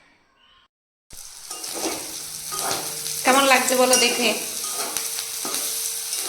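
After a moment of near silence, bhetki fish fat sputters and sizzles loudly and steadily in hot oil, with a person speaking briefly over it.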